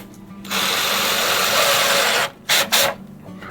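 A power drill drives screws into the wood of new basement stairs in an old farmhouse, with one long whirring run followed by two short bursts, loud and close with no talk.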